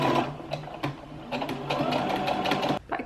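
A sewing machine flat-stitches a linen top, its motor whirring in steady bursts with brief pauses between runs, loud and close.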